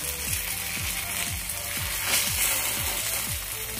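Amaranth flour chila frying in a pan, a steady soft sizzle running throughout with a faint regular low ticking underneath.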